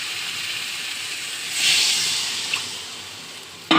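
Water is poured into a hot pan of soybean and egg curry, a broad steady hiss of steam that swells sharply and then slowly fades, ending in a brief clatter.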